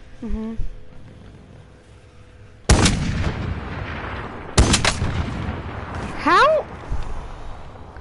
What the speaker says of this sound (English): Explosive rounds in this sniper?